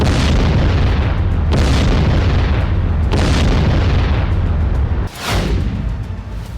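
Heavy blasts from Iranian missile strikes hitting Israel, including an IT park and an airbase, rumble continuously as loud, low booms with sharp peaks near 1.5, 3.2 and 5 seconds, then a brief dip and rising roar.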